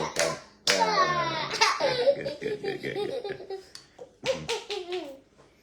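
A short burst of hand clapping mixed with a child's laughter and chatter, close by, with voices continuing over the claps.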